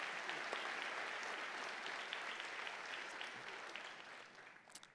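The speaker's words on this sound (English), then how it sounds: "Give yourselves a round of applause" Sustained applause from a convocation crowd in a hall, dense and steady clapping that carries on for several seconds before tapering off at the end.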